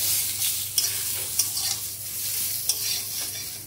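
Beans are stirred in a hot pan with turmeric, a spatula scraping and clinking a few times over a steady, close sizzle, with no talking.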